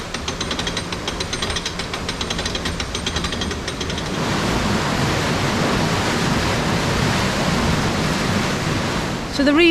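Water rushes through canal lock paddles into the pound below a narrowboat lock, starting with a rattling mechanical clatter and then becoming a loud, steady roar of churning water.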